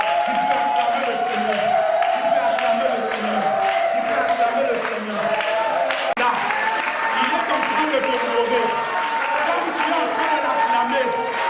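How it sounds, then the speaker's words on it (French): A church congregation at a French-language salvation seminary applauds and cheers in a dense, sustained wash of clapping, with voices mixed through the crowd noise. "qui peut acclamer le Seigneur?"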